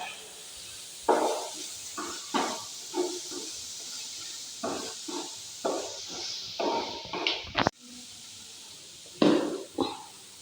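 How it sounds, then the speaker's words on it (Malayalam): Spices sauté in a hot pan for kalmas, a Kannur street-stall snack, with bursts of sizzling and hissing rising and fading in irregular pulses, plus a sharp clatter partway through. "അത് വഴറ്റാം."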